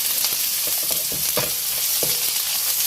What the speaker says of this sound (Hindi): और सब मसाले को अच्छी तरह प्याज के साथ फ्राई करना है।